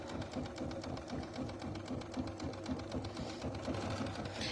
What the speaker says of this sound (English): we are stitching on the 990 today, the Bernina 990